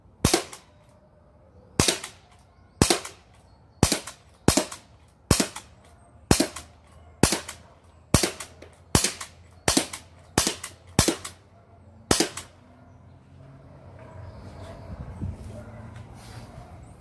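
A Daisy Powerline 93 air rifle fires about thirteen sharp, close shots at a fairly steady pace of roughly one per second, plinking on a back porch. Faint rustling follows the last shot.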